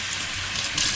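Running tap water splashes steadily into a kitchen sink as fresh coriander is rinsed, a brief continuous rush with no voices.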